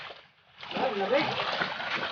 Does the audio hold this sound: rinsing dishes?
yes